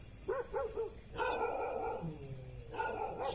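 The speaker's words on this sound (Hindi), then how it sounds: "अरे भाई कुत्ते भौंक रहे हैं" Several dogs bark in short repeated bursts at moderate distance, with yips and a whining tone mixed in, heard in a tense night-time setting.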